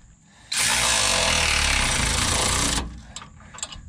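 A power tool runs in one continuous loud burst of about two seconds, a dense buzzing whir, while tightening 19 millimeter bolts on a Dodge Ram dual shock steering stabilizer, then cuts off to faint clinks.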